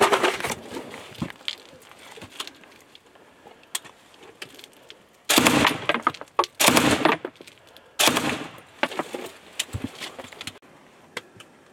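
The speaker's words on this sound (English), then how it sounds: "we cannot leave the bunker because of the shelling" Artillery shelling and bursts of gunfire near a frontline trench bunker, sharp loud blasts and rattling volleys arriving in clusters, some close and heavy, with quieter crackling between them.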